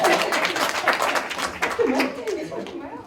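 Audience at a data festival talk clapping and cheering as speakers are introduced; a short burst of clapping mixes with voices and a laugh, tapering off within a few seconds.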